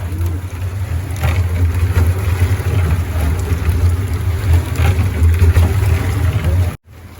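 A homemade concrete mixer built from an old oil barrel runs with a steady loud low drone and a continuous rattle, close by, stopping abruptly near the end.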